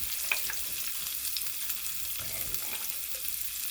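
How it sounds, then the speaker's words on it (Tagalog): Onion hits hot oil in a pan for a crab omelette, giving a steady close sizzle and crackle with light stirring scrapes and no talking. "maglalagay na po tayo ng onion kasi madaling uminit dito ang oil"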